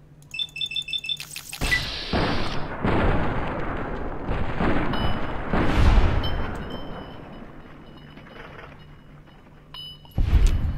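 Gunfire from .45 rounds in the video game Fallout New Vegas: loud, close bursts of shots rolling into one another, then a sustained roar of repeated fire that swells and fades, ending with a sharp final burst.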